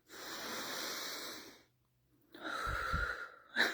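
Slow nasal breathing, used to calm down, comes as a long soft airy inhale, a pause of near silence, then another breathy exhale ending in a sharper sniff, close and alone.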